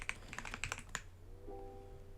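Rapid keyboard typing, a run of close, crisp key clicks over roughly the first second, then a steady low hum with a faint tone while the computer runs on quietly.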